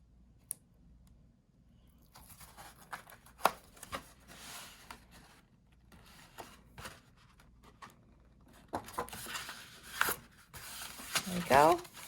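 A paper album page is folded by hand, with soft rubbing, creasing and crinkling sounds in irregular bursts, close and quiet, a few sharper clicks and rustles toward the end.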